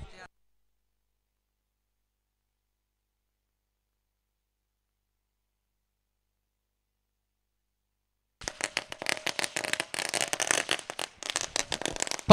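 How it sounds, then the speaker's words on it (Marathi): Firecrackers and fireworks welcome guests at a village cricket tournament in Kanpoli, Panvel. After a long silence, a dense run of sharp, crackling bursts goes off rapidly and keeps going until the end. "खरं तर फटाक्याच्या आतिषबाजीनं"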